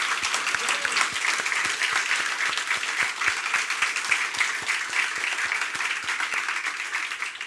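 Sustained applause from a church congregation, dense and steady throughout, with a few sharper individual claps standing out in a regular rhythm.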